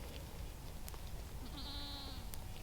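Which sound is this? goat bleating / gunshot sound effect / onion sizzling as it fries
goat bleating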